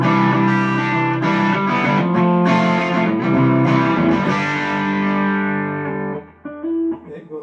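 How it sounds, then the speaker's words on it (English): Distorted electric guitar through a Marshall DSL20CR amp with Holy Grail reverb strums chords and short riffs with a washy reverb tail, ending on a quieter sustained note with a few picked notes. "The Holy Grail reverb."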